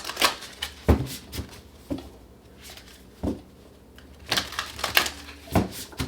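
Tarot cards shuffled by hand in a quiet room, giving repeated short bursts of riffling and soft slapping, fairly close, with pauses between bursts.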